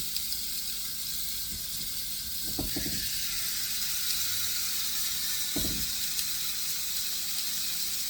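A continuous, fairly loud sizzle of steaks seasoned with smoked applewood sea salt cooking on a grill, with a few short low bumps and crackles surfacing through the steady hiss.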